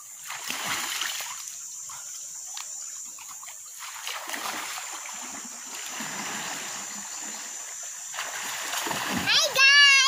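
Children splash and play while bathing in a stream. There are bursts of splashing and trickling water close by, mixed with chatter and shouts from kids.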